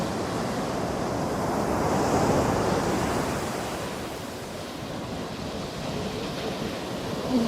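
Ocean surf rushing up onto the shore, a steady broad wash of water swelling and easing, with wind in the background and no voices.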